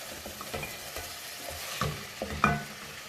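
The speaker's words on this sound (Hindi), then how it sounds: "इसको डालने के बाद थोड़ा सा इसे चलाएंगे," Beef stew ingredients stirred in a cooking pot, with a soft sizzle of frying and quiet, irregular scraping strokes of a spoon, heard alone at low volume.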